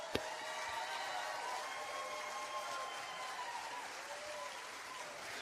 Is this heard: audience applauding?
yes